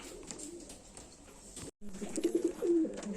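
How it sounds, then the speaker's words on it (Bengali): Giribaz pigeons coo in low, throaty bursts, a few soft calls early and louder overlapping cooing in the second half, close by. "ভালো কোয়ালিটির গিরিবাজ নিতে পারেন শুধু কোয়ালিটি দেখুন পায়রাগুলোর"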